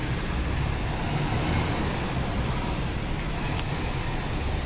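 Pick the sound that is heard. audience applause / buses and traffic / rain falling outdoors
buses and traffic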